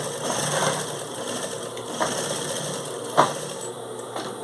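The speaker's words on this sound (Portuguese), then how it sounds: "E vai passar a costurinha." A sewing machine stitches a shoulder bag with a steady whirring mechanical hum, close and continuous, with a couple of faint clicks along the seam.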